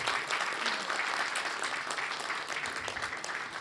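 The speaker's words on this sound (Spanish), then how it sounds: "Un aplauso, por favor." Audience applause at a Rotary Club lunch in Buenos Aires, a continuous wash of many hands clapping at moderate volume, sustained evenly for several seconds.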